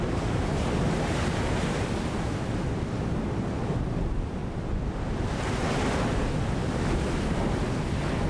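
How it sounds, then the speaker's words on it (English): Stormy Irish coastline beside a golf course, with waves crashing and strong wind roaring in a dense, continuous wash of noise that swells and briefly eases near the middle, loud and close with no voices. "In stormy weather, crashing waves and strong wind send salty seawater up onto the golf course"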